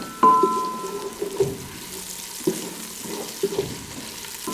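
Onion and ginger-garlic paste fry in a pan for daal mash, with a soft sizzle, a few clinks of a spoon against the pan and a faint tone from a nearby appliance.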